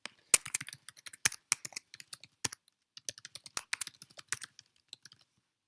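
An address being typed on a computer keyboard: crisp, close keystrokes in quick irregular bursts, with a few louder key hits and short pauses, over a quiet background with no talking.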